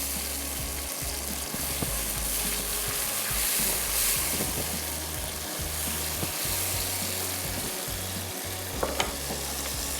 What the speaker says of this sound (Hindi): इसको इतना पकाना है कि ऑयल अलग हो जाए और ग्रेवी जो है अच्छे से भुन जाए